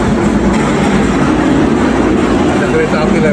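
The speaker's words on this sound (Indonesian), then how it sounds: "ada kereta api lewat. Kereta api lokal." A local train on the Bali line rumbles past with a loud, continuous low roar and rattling wheels throughout, heard close by with voices mixed in.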